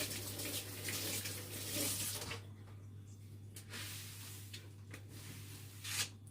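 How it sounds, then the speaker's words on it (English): Water runs from a tap in a kitchen, a loud, steady splashing stream for about two seconds that then drops to softer trickling and intermittent splashes. "Now let me wash my hands."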